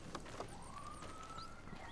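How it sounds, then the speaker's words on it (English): A siren wails outside a house, one long, steady rising-and-falling tone heard at a distance over low background rumble, with no one speaking. "I hear a siren outside my house."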